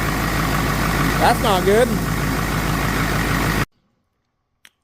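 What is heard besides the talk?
turbo diesel engine idling, blown head gasket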